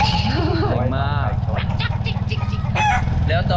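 A fighting cock crows loudly and close by with a drawn-out cock-a-doodle-doo, followed by further clucking and rustling in a rural setting.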